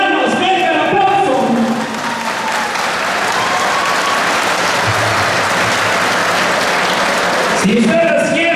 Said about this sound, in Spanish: Si les gustó la primera jugada, Rancho Cinco Hermanos, venga el aplauso.